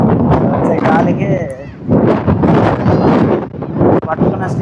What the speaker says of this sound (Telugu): పట్టుకున్న స్టిక్కే పట్టుకోలేకపోతున్నా, అంత గట్టిగా వస్తుంది గాలి.